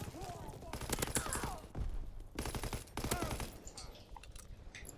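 Bursts of STG44 automatic rifle fire in a Call of Duty match come in several short rapid volleys separated by brief pauses, and a voice talks between and over them.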